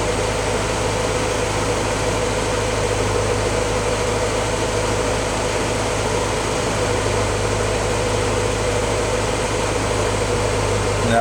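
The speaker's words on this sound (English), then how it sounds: "The engine's a little bit smoother now that it's got a little bit warmer." A Willys L-head engine idles steadily after a cold start, now slightly warmer, giving a continuous low, even drone with a broadband mechanical hum that holds at a constant level for the whole stretch, with no voices.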